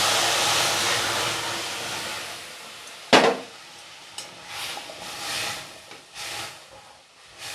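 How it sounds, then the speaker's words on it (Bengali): Milk poured onto hot fried semolina in a pan gives a sharp sudden hiss, then softer bursts of sizzling and bubbling against a steady background hiss. "দুধ দিয়ে দিচ্ছি।"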